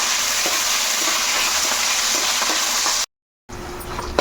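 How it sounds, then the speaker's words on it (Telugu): Onions fry in a pan for veg biryani, giving a steady, close hiss of sizzling oil that runs evenly for about three seconds, cuts out briefly, then resumes more faintly. "ముందు ఆనియన్స్ వేసేసుకోవాలి బ్రౌన్ కలర్ వచ్చేదాకా వేయించుకోవాలి"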